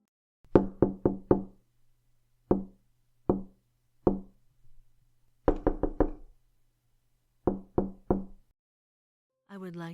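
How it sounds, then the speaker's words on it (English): Knocking on a door or wall in a home, heard as several groups of two to four sharp raps separated by pauses, clear and fairly close in otherwise quiet surroundings. "I've started hearing knocking."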